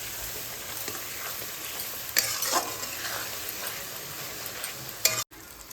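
Spice paste sautéed (kosha) in oil for Bengali chicken curry, a steady close sizzle broken by scraping stirs and a few sharper knocks before it cuts off abruptly near the end.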